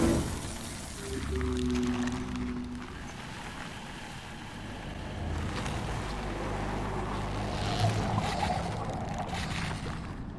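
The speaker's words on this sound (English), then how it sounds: "you can definitely hear the sound of the skimmer once you get on it" A video game hover skimmer mount hums and whooshes steadily with a rushing, wind-like roar and shifting low drone as it glides along.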